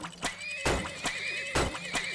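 Horse neighing in the video game Turmoil, a pair of short whinnies with bright repeated bursts and a wavering tone, cleanly recorded and heard alone.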